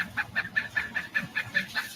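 A bird gives a rapid, repeated laughing call, like a goofy woodpecker, about ten even, chattering notes in two seconds at moderate volume, with no talking over it.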